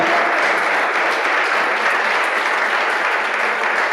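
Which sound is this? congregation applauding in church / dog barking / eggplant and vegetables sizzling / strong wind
congregation applauding in church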